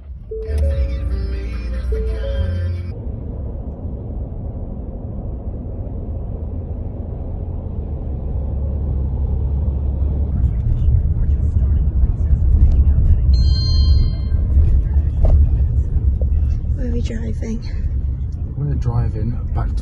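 Steady low rumble of a car driving through Winter Park, Florida, heard from inside with people talking over it.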